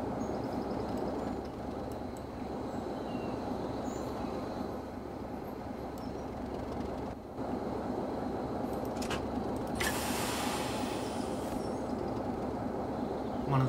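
A Class 33 locomotive running in the Trainz railway simulator, a steady low rumbling drone of engine and rolling stock with faint wheel noise, continuous and moderately loud, no talking.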